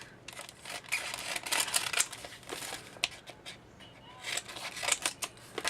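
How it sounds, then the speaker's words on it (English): Scissors snip through the ends of paper envelopes in quick, quiet, irregular cuts mixed with soft paper crinkling, close by and faint. "You just cut the ends off"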